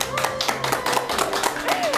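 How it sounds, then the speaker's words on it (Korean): Studio audience clapping to welcome a guest author at a lecture taping, a brisk patter of claps with faint music underneath, close and moderately loud. "큰 박수 부탁드립니다."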